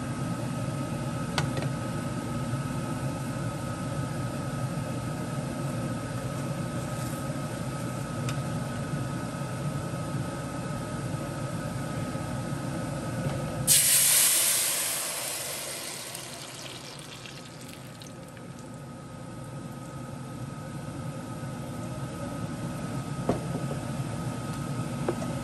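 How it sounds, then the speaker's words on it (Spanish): Ground tomato is poured into hot oil in a pan and bursts into a loud hiss that gradually settles into a quieter, steady frying sizzle over a low background hum. "aquí vamos a freír el tomate que ya tenemos molido"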